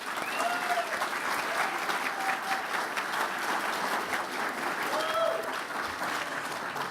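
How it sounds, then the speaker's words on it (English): An audience at a Rotary Club Teacher of the Year awards event applauds twenty-two teachers, with sustained, dense clapping that fills the room evenly, and a few faint voices and whistles rising above it. "let's give them all a big round of applause"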